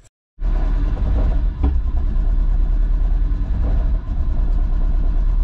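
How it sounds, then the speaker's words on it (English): A Honda Civic wagon (RT4WD) engine cranks over with the throttle floored, a loud, continuous low rumbling churn with uneven surges as it tries to backfire, starting abruptly after a brief silence. "I got my foot flat to the floor right now. It's trying to backfire."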